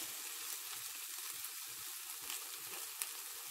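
Potato pieces seasoned with salt and pepper frying in a pan, a steady close sizzle with soft crackles and occasional pops, continuous throughout.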